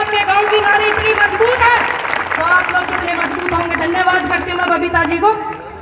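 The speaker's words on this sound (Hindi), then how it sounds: "एक बार उनके लिए आप जोरदार ताली बजाइए" Crowd at an outdoor farmers' mahapanchayat rally in rural north India applauding in a sustained burst of clapping, while a voice keeps talking over the applause through the whole stretch.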